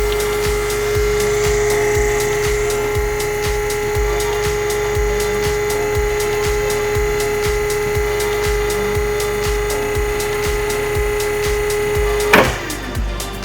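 Motor of a hydraulic sausage stuffer driving its piston, a loud steady whine with a rapid regular ticking pulse running throughout, ending in a sharp clunk near the finish.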